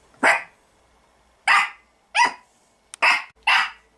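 A dog barks at a vacuum cleaner, giving five loud, close barks at uneven intervals with a small yip between the later ones, and quiet pauses in between.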